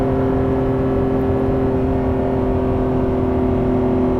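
A 2024 Lamborghini Revuelto plug-in hybrid on a race track gives a loud, steady engine drone with a strong sustained tone, close and continuous with no voices.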